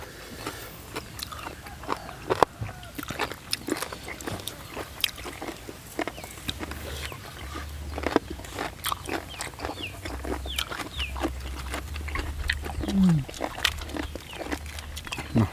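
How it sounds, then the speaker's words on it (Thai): Crunchy squid and seafood papaya salad with crisp vegetables chewed close up, with repeated wet crunching bites at an irregular rhythm over a low background hum, plus occasional faint voices. "ทำกรุบกรุบเลยนะ"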